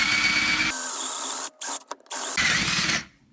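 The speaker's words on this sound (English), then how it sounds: "I'm just going to go right above center and just try to drill straight in." A power drill bores into an interior door, whirring steadily, cutting out briefly with a few short bursts, then running again before stopping; close and fairly loud.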